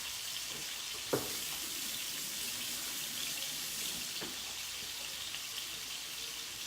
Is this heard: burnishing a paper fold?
no